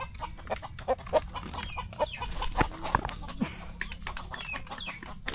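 Several free-range country chickens cluck and chatter in short, irregular bursts close by on a farm in the morning, with soft scuffling and background farmyard noise.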